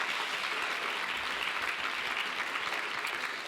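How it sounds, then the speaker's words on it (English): An audience claps for Shannon after a presentation, a steady, dense round of applause from a crowd that holds at an even level throughout. "So if we could give Shannon a round of applause, that would be really great."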